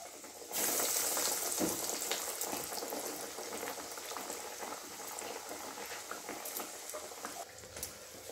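Chicken cutlets frying in well-heated oil, a steady dense bubbling sizzle that starts sharply and holds at an even, close level throughout with small crackles.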